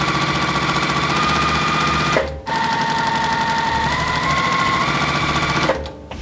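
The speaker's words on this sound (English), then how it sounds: "So now it's time to start sewing." A sewing machine runs loud and close, stitching jelly roll quilt pieces in a fast steady hum that pauses briefly midway, then runs on before stopping again.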